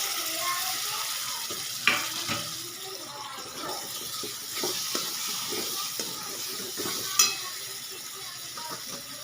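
Finely chopped tomato, salt and spices sauté in a pan for hotel-style dal tadka, a soft, uneven sizzle with scraping stirs and a couple of sharper clinks of a spoon against the pan.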